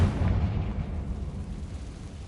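A Confringo blasting spell explodes in Hogwarts Legacy, a loud, deep booming burst that starts strongly and rumbles on without a break.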